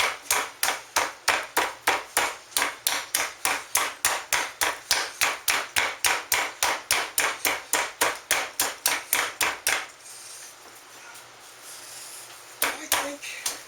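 A rolling pin pounds a pork loin on a cutting board, about thirty sharp, even thuds in quick steady rhythm, then a brief quiet gap before a few more hits.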